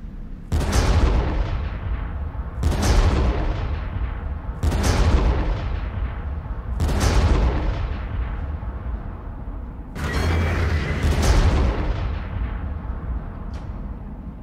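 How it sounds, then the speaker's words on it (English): Heavy cannon blasts from the Warhammer 40000 Armageddon strategy game, five loud booms spaced about two seconds apart, each a sharp crack followed by a decaying rumble, with no voices. "There's a cannon here."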